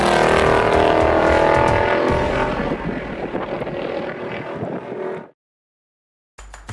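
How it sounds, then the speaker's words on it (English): A deep, throaty V8 engine rumble from a Ford Mustang Mach 1 runs loud and steady for about five seconds, then cuts off abruptly into silence before a brief return. "This is the reason you buy a V8. You want to feel it rumble."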